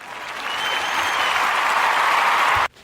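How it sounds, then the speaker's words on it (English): A crowd applauds with loud, sustained clapping that swells slightly, holds steady for a couple of seconds, then cuts off abruptly. "I just have to give that some claps"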